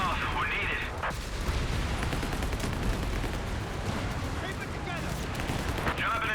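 An artillery barrage in Company of Heroes 3 during a 2v2 match, a rapid series of distant booms and gunfire rumbling under a commentator's voice.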